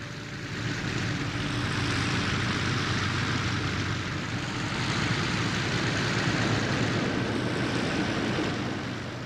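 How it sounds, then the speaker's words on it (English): An A-1 Skyraider piston-engine attack plane in flight, a steady, broad throbbing engine roar that holds loud and unbroken throughout, with no voices. "the throbbing piston-engine roar of the Skyraiders"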